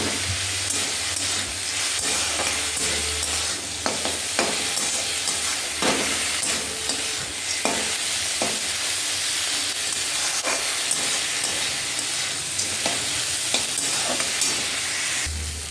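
Amaranth greens and peanuts stir-fry in a pan as the water cooks off, a continuous hissing sizzle with repeated scraping and tapping of a spatula, steady and close throughout, no speech.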